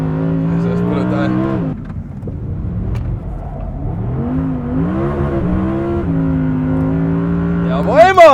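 An Audi R8 GT's V10 engine revs hard from inside the car, a loud rising and falling howl through several gear pulls, with a brief dip before climbing again and a sharp high surge at the end.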